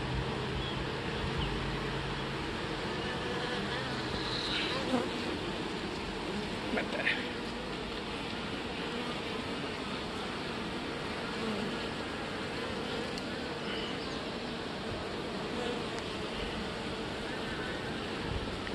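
A swarm of about 5000 honey bees building comb gives off a dense, continuous buzzing drone at close range, steady throughout with a few louder passes near the microphone.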